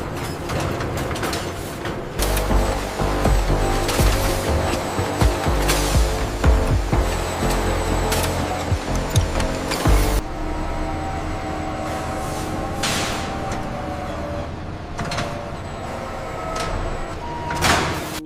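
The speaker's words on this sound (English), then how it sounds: "Closing the blast door." A heavy blast door closing in a secure section of a currency printing facility, a long grinding, rumbling slide with clanks and metallic knocks, loud and sustained with a sharp change partway through.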